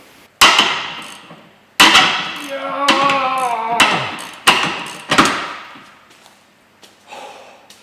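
Seized 19mm bolts and 21mm nuts on a Mercedes Vito front ball joint are worked loose with about seven sharp, ringing metallic blows, loud and close, spaced irregularly.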